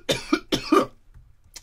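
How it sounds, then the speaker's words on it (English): Two sharp, close coughs in quick succession, each with a double burst, followed by a quiet pause and a faint breath. "Excuse me while I cough a second."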